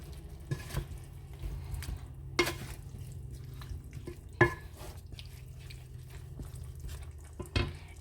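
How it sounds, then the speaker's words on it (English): Quiet scraping and clinking in a pot of lamb stew, with a few sharper knocks of a utensil against the side and a low steady hum underneath. "Stir it and then add it into your stew."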